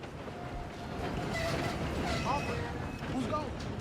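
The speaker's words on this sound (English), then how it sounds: "Come on, we need to stop this train." Train rolling on rails in Red Dead Redemption 2, a steady low rumble and clatter of wheels carrying on throughout at moderate level, with faint squeaks over the top.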